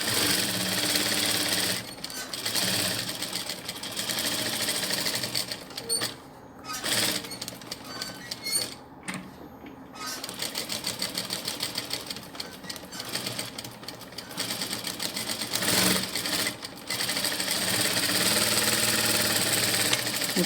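Domestic sewing machine stitching a cloth doll's leg, a close, busy rattling hum in long runs broken by brief pauses and restarts.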